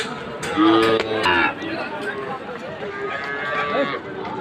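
Sahiwal bull calves low and moo at a busy cattle market, with a couple of close calls standing out over crowd chatter and nearby talk.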